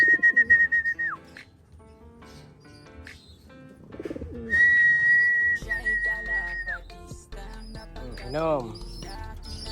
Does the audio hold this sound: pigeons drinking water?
yes